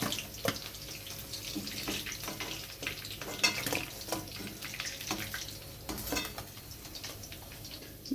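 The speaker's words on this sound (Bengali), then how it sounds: "বাকিগুলোও আমি এইভাবে ভেজে নেব" Hariyali chicken cheese fingers fry in a pan with a continuous crackling sizzle, broken by occasional clinks and scrapes of a utensil against the pan, moderately loud with no voices.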